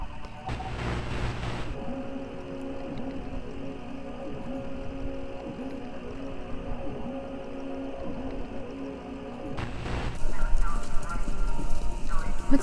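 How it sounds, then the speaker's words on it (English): Horses running in a race, heard through a radio station in the game Kentucky Route Zero: steady clip-clop hoofbeats under a hissy, static-laden broadcast, with a burst of noise at the start and near the end. "Sounds like horses running? A race?"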